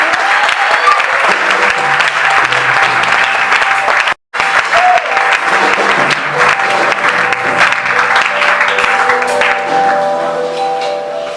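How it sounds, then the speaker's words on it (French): A church congregation applauds steadily and loudly for Jesus, dense clapping filling the room, with a brief drop near the middle before the applause resumes and continues evenly to the end. "Est-ce qu'on peut acclamer Jésus?"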